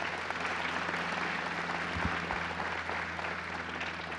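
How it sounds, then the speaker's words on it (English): Applause for the mayor at a groundbreaking for a $24.7 million expansion, a continuous crowd clapping at a steady level, with a couple of low thumps partway through. "Let's give the mayor a round of applause."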